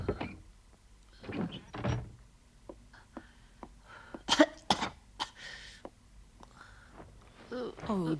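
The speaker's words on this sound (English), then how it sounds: "that's a nasty cough" Moomin, the cartoon character, sick in bed with a terrible cold, gives several harsh coughs and throat-clearing bursts spread across the scene, fairly close and moderately loud, with short pauses between them.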